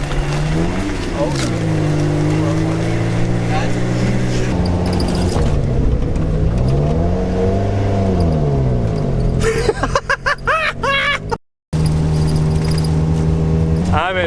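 A small Japanese import mini truck's engine revs rise and fall through gear changes while driving, with the pitch sweeping up and down, close and loud, and people talking over it.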